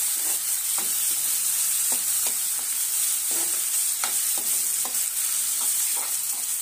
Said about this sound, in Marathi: आता हे सर्व आपल्याला व्यवस्थित परतून घ्यायचं आहे।